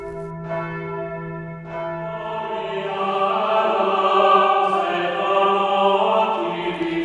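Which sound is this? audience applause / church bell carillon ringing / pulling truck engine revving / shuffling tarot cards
church bell carillon ringing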